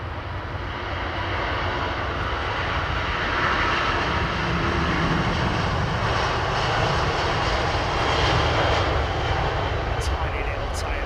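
An airliner's engines roar steadily at London Heathrow Airport on a foggy day, a loud continuous broadband drone lasting throughout, with a voice talking over it.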